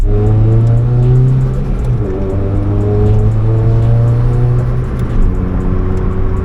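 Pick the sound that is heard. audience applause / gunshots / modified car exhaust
modified car exhaust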